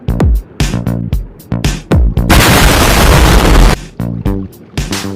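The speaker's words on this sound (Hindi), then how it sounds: "आग लगने के बाद एक बहुत बड़ा धमाका हुआ जिससे मैं गड्ढे में गिर गया" A large explosion in the video game Minecraft, following a fire: repeated loud booming blasts with sharp attacks, broken by a sustained roaring burst in the middle, close and dominant with no talk.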